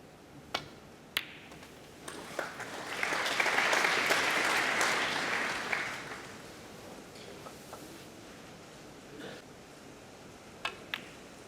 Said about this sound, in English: They love cheering on one of their own